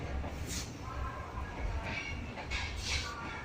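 A train stands at platform number 7 of a Pakistani railway station, with a steady rumble, hissing bursts and faint wheel squeals carrying through the station.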